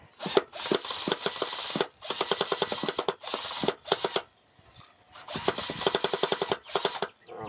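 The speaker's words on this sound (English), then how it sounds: "Drill." A drill whirs in repeated loud bursts with sharp rapid pulsing while removing a Team Associated MGT transmission, pausing briefly between runs, up close with no talking.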